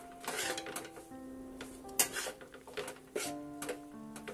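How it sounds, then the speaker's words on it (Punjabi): A spatula scrapes and taps against a pan while besan is stirred in ghee for Punjabi alsi ki pinni, giving soft irregular clinks and rubbing sounds, faint and close with no voices. "ਜਿਹੜੀਆਂ ਇਹਦੀਆਂ ਸਾਰੀਆਂ ਗੰਢਾਂ ਆਪਾਂ ਖੁਰਚਣੇ ਦੇ ਨਾਲ ਲਗਾਤਾਰ ਹਿਲਾਵਾਂਗੇ ਅਤੇ ਮਿਕਸ ਕਰਾਂਗੇ।"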